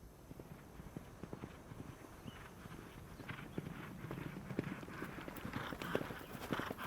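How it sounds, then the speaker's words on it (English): Horses' hooves clip-clop steadily on hard ground, starting faint and drawing gradually nearer and louder, used as a sound effect in an audio drama. "Is that horses?"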